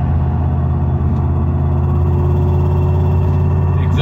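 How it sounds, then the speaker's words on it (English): Porsche 928 GT engine with thermally wrapped exhaust, holding a steady deep, low rumble with a constant droning tone, close and loud throughout without rising revs. "Exhaust is just right, not too loud, but very deep-throated, and I think perfect."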